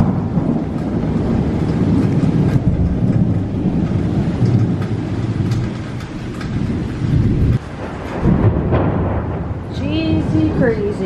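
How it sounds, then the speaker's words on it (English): An intense thunderstorm with heavy rain pouring steadily and deep rumbling thunder throughout, loud and close, with a voice briefly heard near the end. "We are having some intense thunder lightning."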